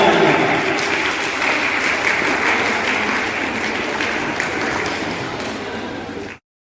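A crowd at a show fight event applauds loudly and steadily for two fighters, a dense, continuous clapping that holds for several seconds before cutting off abruptly.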